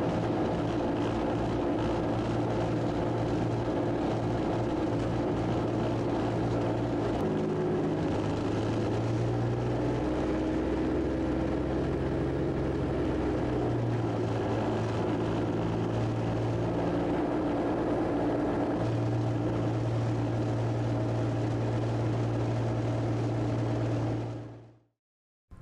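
Aircraft engine drone in a flight simulator game, a steady loud tonal hum that shifts pitch as the plane taxis and takes off, running continuously without talk before cutting off at the end.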